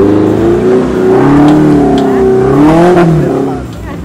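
Off-road racing vehicles revving and pulling away at the start of an event on a damp track, with loud close engine roars rising and falling and a voice calling out over them.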